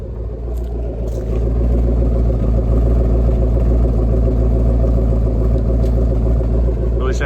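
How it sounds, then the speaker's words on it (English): A 1970 Shelby GT500 428SCJ convertible, drag pack equipped, idles from behind through its center port exhaust, a loud, deep, steady burbling rumble that holds unbroken the whole time. "let you guys hear the exhaust from this center port"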